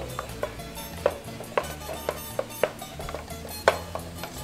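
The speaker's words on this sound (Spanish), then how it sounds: "Voy a seguir removiendo." Browning ground meat seasoned with cumin and pepper being stirred in a pan, a spoon clacking against the metal in irregular taps over a soft, steady sizzle, no talk.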